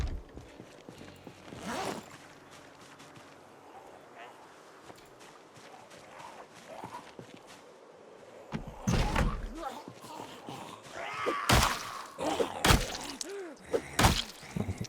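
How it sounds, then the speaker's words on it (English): A door opening in the zombie survival game Project Zomboid, heard as a few loud clunks and bangs near the end over a dull background, while a person talks throughout. "Let's get the door open so we can have an easy way out."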